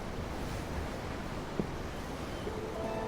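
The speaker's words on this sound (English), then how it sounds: "I'm looking at the ocean. The ocean? Yeah. The waves." Ocean waves in the Tales of Arise video game form a soft, steady wash of surf with breezy noise, continuous and even, with a faint thump midway and no voices.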